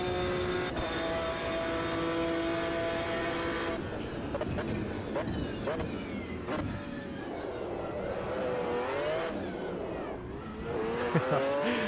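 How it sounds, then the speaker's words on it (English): Race car engine in first gear in the racing game Automobilista 2, with a revving whine and tire squeal as the car slides, the pitch shifting up and down over a steady road roar. "That's sliding just because I was too aggressive in first gear"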